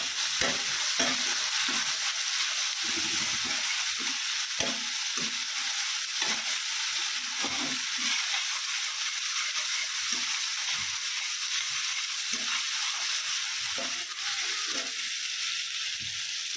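Onion, garlic, cumin, salt, chili and turmeric frying in hot oil in a pan for a Pabda fish curry while being stirred: a steady loud sizzle throughout, broken by repeated soft scraping strokes of the spatula.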